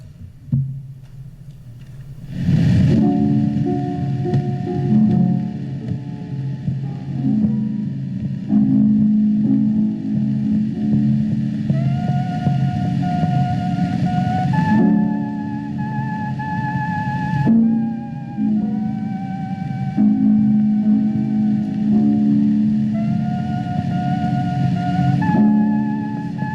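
A thin, reedy whistling melody played on a leaf, from a 1923 acoustic record, sustained wavering notes over a hissy, muffled background with steady accompaniment.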